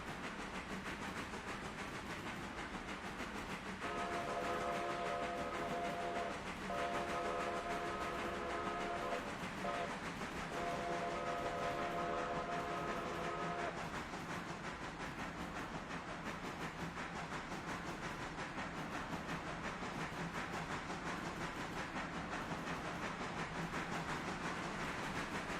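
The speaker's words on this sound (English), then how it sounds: "I was listening to the sound of the locomotive. I'm like, ooh, it's slowing down." A locomotive slowing down in the Railroader train simulation game: a steady, broad rumble of rolling rail cars and engine with a sustained horn-like tone for several seconds, continuous and fairly loud with no speech.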